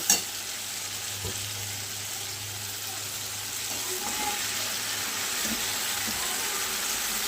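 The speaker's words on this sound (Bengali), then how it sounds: "দেখুন বন্ধুরা এইভাবে মাংসটা ভালো করে কষাতে হবে" Chicken pieces sear in a tomato-based spice masala for a chicken and potato curry, giving a steady close sizzle with a sharp knock at the start and faint scraping of the stirring spoon throughout.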